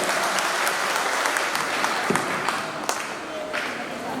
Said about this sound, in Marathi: एकदा जोरदार टाळ्या वाजवून आपण सर्वांनी या कार्यक्रमाची सुरुवात करावी